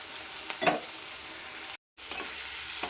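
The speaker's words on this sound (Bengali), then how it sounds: "চিংড়ি মাছগুলো আগে একটু ভেজে নিচ্ছি" Prawns fry lightly in a pan with a steady, close hiss of sizzling oil, broken by a few stirring clicks and one brief moment of silence.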